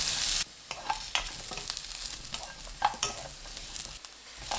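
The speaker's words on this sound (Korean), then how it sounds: "마늘 넣고 30초 볶아주세요" Potatoes and garlic stir-fried in oil in a pan, a close crackling sizzle broken by irregular scrapes and clacks of a spatula after a brief louder burst at the start.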